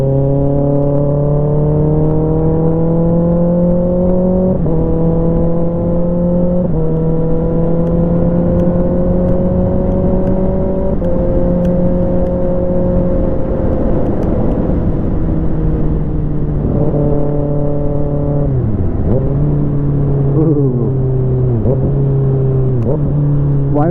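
A 636 sport motorcycle engine revs and accelerates close by, its pitch climbing through several gear changes and then dipping and rising again in sharp throttle blips near the end, loud and steady with no talking.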